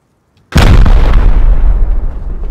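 A rocket slams into a base in the Rust video game with a single loud, close explosion that hits suddenly after silence and then rumbles and decays over the remaining seconds.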